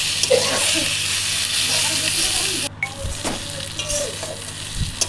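Steady close-up sizzling of spices, onion and garlic frying in a pan, with occasional stirring scrapes, continuous throughout.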